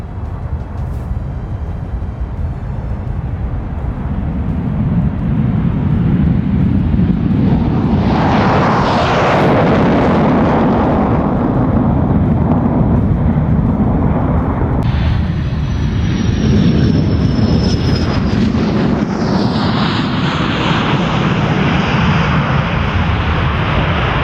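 A Panavia Tornado combat jet roars loudly and steadily with engine thunder, its pitch rising into a louder surge partway through, and no voices are present.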